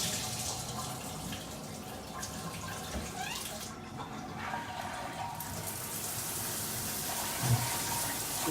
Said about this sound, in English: It's got a nice downpour, a lot of volume of water.